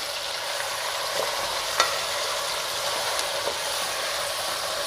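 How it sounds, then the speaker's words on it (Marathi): Continuous sizzling of chicken frying in a pot, with a few sharp clicks of stirring utensils, close and steady, no talking. "आता आपण चिकन चांगलं परतून घेऊया"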